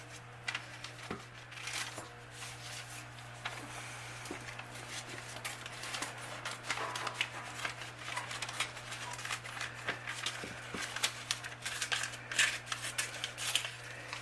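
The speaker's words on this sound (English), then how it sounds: "Snip the ends off so you're not gluing twice." Scissors snipping the ends off a folded paper craft bag, a run of faint crisp snips and paper rustles over a steady low hum, close with no voices.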